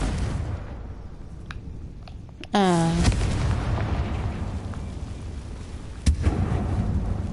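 A Confringo blasting spell from the Hogwarts Legacy video game goes off in a mine, a sudden loud burst at about 2.5 seconds with a falling whistle-like tone and a sustained rumbling tail, followed by another sharp crack near 6 seconds.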